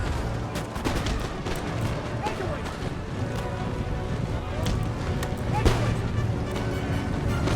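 Musket volley fire from line infantry in the Empire: Total War strategy game, with crackling bursts of massed gunshots rolling over continuous battle noise, loud and dense throughout.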